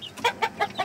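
Free-range village hen clucking close by in a small backyard coop, four short evenly spaced clucks in quick succession with a faint higher call at the start, no talk.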